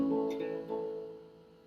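Guitar played in a rhythm of quarter and eighth notes: a few soft strummed chords ring out and slowly decay, heard alone at a fairly low level.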